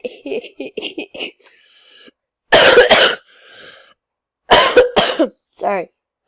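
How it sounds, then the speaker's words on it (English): A few short, sharp coughs come in separate bursts, close and fairly loud, broken up by pauses and some vocal sounds. "I'm sorry, I still have my cough."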